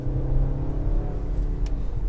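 2018 Audi Q3 with a 2.0-litre turbo engine accelerating, heard as a close, steady low engine rumble and hum from inside the car for about two seconds.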